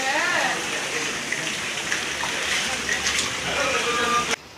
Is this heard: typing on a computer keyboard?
no